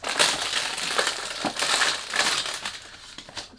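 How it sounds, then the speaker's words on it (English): Cardboard packaging and wrapping of a 125 ml Police To Be Bad Guy eau de toilette box crinkle and crush continuously up close as it is unboxed, a steady dense rustle with no talking. "Sorry about the noise when you do the unboxing"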